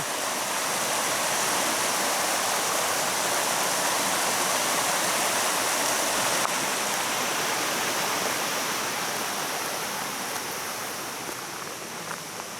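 A mountain stream on a red hiking trail toward Śnieżnik rushes loudly and steadily on a cold day, a close, dense roar of water that holds throughout with no one speaking.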